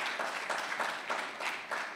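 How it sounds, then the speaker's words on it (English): An audience at the Ghana Institute of Architects annual general meeting applauds a speaker, with a fairly quiet, continuous wash of clapping that swells slightly in waves. "Another round of applause for our speaker."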